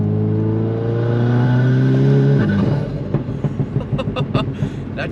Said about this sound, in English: That turbo noise. It's so good.